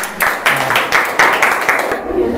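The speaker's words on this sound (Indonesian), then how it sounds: "Biasa aplaus ya" A group in a teaching session gives a short round of applause, a few bursts of clapping that fade out after about two seconds.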